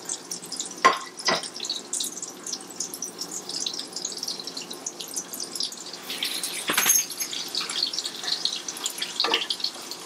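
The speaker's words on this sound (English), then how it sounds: "It is a little harder to fry in bacon grease or any kind of oil than it is in just Pam." An egg fries in bacon grease in a pan with a continuous close crackle and spitting, along with a few sharper pops and scrapes scattered through.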